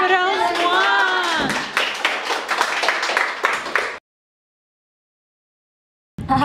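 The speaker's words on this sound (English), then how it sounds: "A big applause to Daffodils one." Audience clapping for the Daffodils 1 class after a children's Aladdin performance. A voice is heard first, then a burst of dense, sharp claps runs for a few seconds, breaks off into silence, and clapping briefly resumes at the end.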